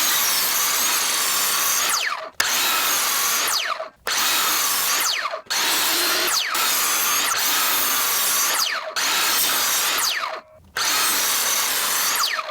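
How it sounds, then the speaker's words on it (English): A miter saw trims reclaimed wooden table leg pieces in a loud series of about six cuts, each a couple of seconds of steady whining buzz separated by short pauses. "we're going to take these over to the miter saw and give them a nice little trim"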